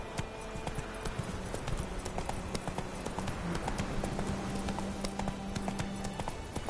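Hooves of Roach, the horse in The Witcher 3, clip-clop at a steady gallop, near and fairly loud, over a low in-game ambient hum and drone.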